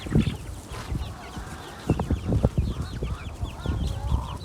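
A rooster and several backyard chickens, one of them orange, cluck and call nearby in an outdoor yard, with repeated short clucks and bursts of calls running throughout.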